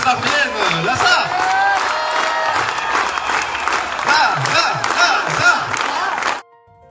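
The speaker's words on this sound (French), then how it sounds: "Applaudissez encore pour que Lazare vienne" A festival audience at Festival Nexus, held at a château, applauds and cheers loudly and continuously for about six seconds, with whoops and shouts mixed into the clapping before it stops abruptly.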